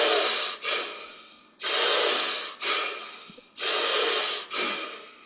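Forceful rhythmic breaths alternate in and out through the nose during a breathing exercise, six hissing bursts in steady paced cycles, close and loud with brief pauses between.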